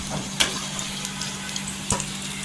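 Steady low sizzle of eggs frying in oil, with a couple of sharp clinks of a utensil against the wok.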